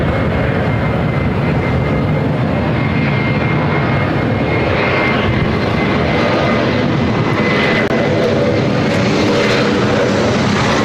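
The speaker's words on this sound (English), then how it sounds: "Tahiti Niue Dreamliner heading up here for north side at takeoff" A Boeing 787 Dreamliner takes off at LAX with a loud, continuous engine roar that holds steady throughout, close and powerful, with no talk over it.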